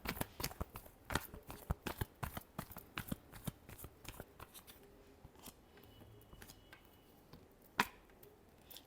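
Tarot cards shuffled in a quiet room for a reading: a fast run of crisp riffling slaps and flicks, close and dry, thinning out and slowing toward the end with one last sharp snap.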